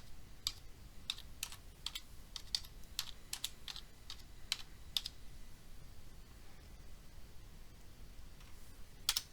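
Typing on a computer keyboard: a quick run of crisp, close keystrokes in irregular bursts, then a pause and a final couple of taps, in a quiet room with no talking.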